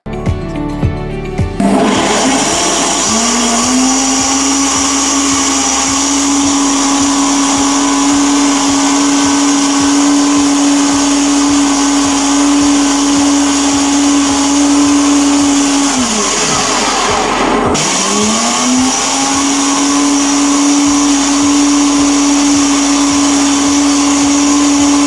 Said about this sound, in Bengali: কেটে ব্লেন্ডারের মধ্যে দিয়ে দিলাম। এখন সামান্য পরিমাণ পানি দিয়ে একটু ব্লেন্ড করে নিতে হবে।